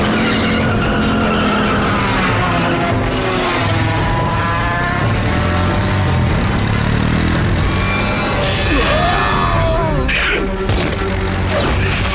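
A cartoon vehicle from an animated adventure series throttling up to full speed through an obstacle course, a loud continuous roaring engine with rising and falling whines, skidding squeals and crashing impacts layered with dramatic music.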